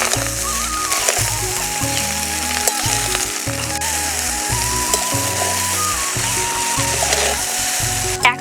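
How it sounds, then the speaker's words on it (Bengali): Vegetables for fried rice are stir-fried gently over medium heat, giving a loud, steady sizzle in the pan with a background hum and a sharp clatter near the end. "এবার উনুনের জাল মাঝারি রেখে আলতো হাতে নাড়াচাড়া করব।"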